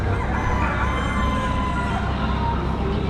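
A rooster crowing amid a crowd of show chickens, with clucking and a busy, noisy backdrop; the crowing rises over steady poultry chatter at close range.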